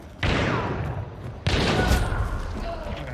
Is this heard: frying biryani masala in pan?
no